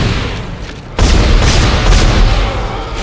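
Weapon fire in the sci-fi horror video game Dead Space: a dense, loud barrage of booming shots that swells suddenly after a second and keeps pounding continuously.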